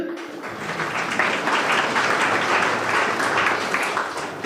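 An audience at an Utthaan program event at Paras Defence and Space Technologies claps for a participant, a dense, steady round of applause from a crowd filling the room at even loudness, with faint voices mixed in.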